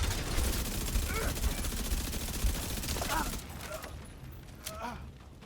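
Sustained rapid gunfire in The Division 2, dense bursts of shots rattling continuously before thinning out to a few scattered shots, with in-game voices calling out under the shooting.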